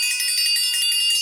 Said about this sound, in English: This bell you're doing right now